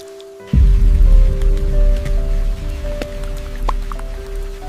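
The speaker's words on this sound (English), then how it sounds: "Heavy tropical raindrops trap the floating dust particles, dragging them down from the heavens" Heavy tropical rain in the Amazon begins abruptly and keeps up as a dense, continuous patter of drops on leaves and surfaces, loud and close, with scattered heavier drips over a low steady hum.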